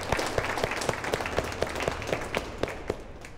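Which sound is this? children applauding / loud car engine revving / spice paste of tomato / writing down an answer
children applauding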